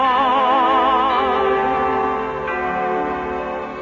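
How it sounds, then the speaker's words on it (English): Village church bells chime in a steady, ringing run of sustained tones that waver and overlap, loud and continuous with no talking. "the bells began to chime."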